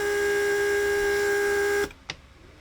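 A Mercedes S-class door lock vacuum pump runs with a loud, steady electric whine and hum, then abruptly cuts off, leaving a quiet room and a single faint click.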